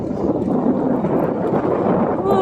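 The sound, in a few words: strong wind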